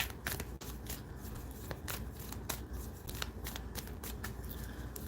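A deck of reading cards being shuffled by hand, a close series of quick riffling snaps and papery flicks repeating in bursts, with no talk over them.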